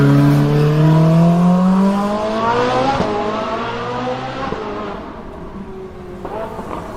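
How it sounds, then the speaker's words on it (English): A Ferrari 458 fitted with a Novitec exhaust accelerates through the gears, its loud engine note climbing steadily in pitch with a brief shift break, then fading as it pulls away. "This is how the car sounds when accelerating."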